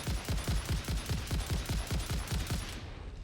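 Rifle fire in the video game Satisfactory: a rapid, evenly spaced burst of about a dozen loud, punchy shots lasting a few seconds, then cutting off abruptly, with no talk.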